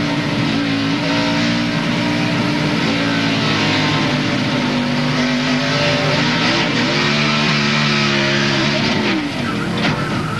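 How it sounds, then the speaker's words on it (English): A NASCAR Craftsman Truck Series race truck in 1999 roars at high revs as the driver floors it to spin around, loud and continuous with rising and falling engine pitch and a trace of tire squeal. "That's the most accelerator he used all night, trying to get the truck spun around."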